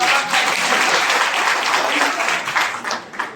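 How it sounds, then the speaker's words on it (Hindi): Audience at a college lecture in Datia applauding loudly, a dense, steady wash of clapping from a large crowd that tapers off near the end. "जोरदार तालियों के साथ"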